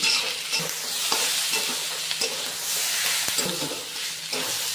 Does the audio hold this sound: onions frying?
yes